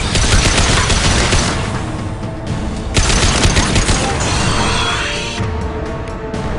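Sustained burst of gunfire from a weapon being emptied in the video game Mass Effect 2, a rapid loud volley of shots with brief pauses, set against dense combat noise.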